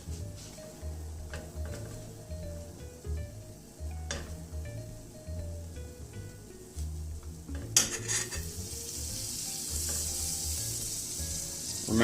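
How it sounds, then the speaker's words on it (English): Butter sizzling in a hot frying pan beside a pancake, a steady crackling hiss over clinks of cutlery and pan handling, with the sizzle growing brighter toward the end. "And now we're going to add the butter to this side."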